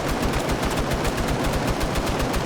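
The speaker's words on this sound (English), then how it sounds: "that M60 is going to tear him apart" An M60 machine gun fires in long, continuous bursts during a large PvP military game match, with rapid, even shots sounding loud and close with no talk over them.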